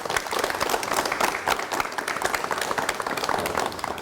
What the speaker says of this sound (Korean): 여러분 미당 선생님을 박수로 맞이해 주시면 대단히 고맙습니다.